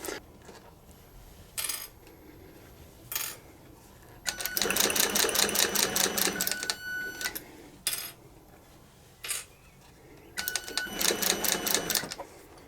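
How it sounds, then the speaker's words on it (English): A sewing machine stitches the sides of a leather mailbag to its back in several close bursts of rapid, even mechanical clatter, separated by short pauses with single knocks and handling sounds, and no talking. "So that's the sides sewn onto the backs of the bag."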